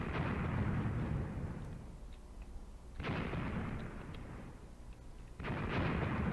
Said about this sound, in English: Watching the shelling